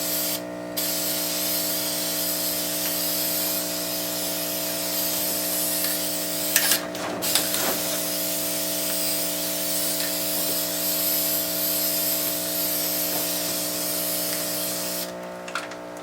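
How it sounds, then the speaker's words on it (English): Spray paint hisses in a long, steady stream while a second coat goes onto the outside of a lid for a windowsill hydroponic herb garden, with a couple of brief louder bursts and no talking. "now for coating number 2 of the lid. Do not paint the underside of the lid,"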